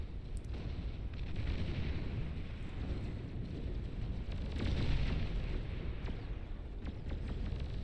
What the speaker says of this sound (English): There the pulsar firing away.